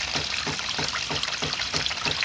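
Water runs from a garden hose into a man-made backyard stream, a close, continuous trickling splash with a gentle pulsing rhythm and no talking.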